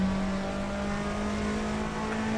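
Car engine lapping the Tokyo C1 loop on the Shuto Expressway in Assetto Corsa, a steady sustained drone holding one pitch throughout, loud and continuous with no talk.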